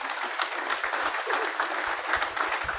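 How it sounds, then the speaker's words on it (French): An audience claps steadily for about three seconds at a French conference on rural Christian mission, a broad, even wash of many hands with no voices over it. "Je crois qu'on peut les applaudir"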